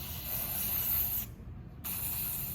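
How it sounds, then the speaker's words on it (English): Cleaning and lubricating spray hisses steadily onto the blades of a hair clipper at close range, stops for about half a second, then sprays again. "Using the clipper side spray, you can remove the rest of the hair."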